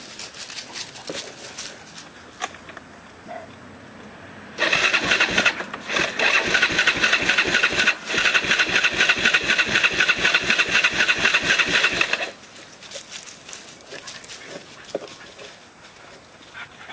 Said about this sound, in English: I'm going to get the key and I'm going to see if that Kawasaki's got any juice